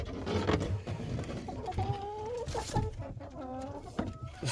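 Brahma chickens cluck repeatedly near the microphone, a run of short rising calls and clucks from the broody flock with a busy rustling background.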